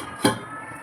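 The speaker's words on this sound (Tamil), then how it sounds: "இதை மூடி போட்டு" A single sharp metallic clank as a lid is set on a cooking pot of cassava being boiled in salted water, close and brief, then quiet kitchen background.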